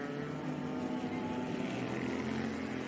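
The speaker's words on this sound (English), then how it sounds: "The deep grunt from these 4-stroke Billand engines and the Wankel engines, the rotary engines." Four-stroke Billand and Wankel rotary kart engines grunt during a karting race at Ellough Park, a steady, dense, unbroken drone with no pauses.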